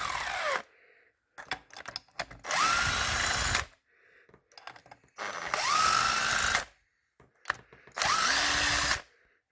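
An impact or power driver works on a bolt on a Kawasaki Brute Force 750 engine in three loud bursts of about a second each, with the motor whining up and down and clicks and clatter between bursts.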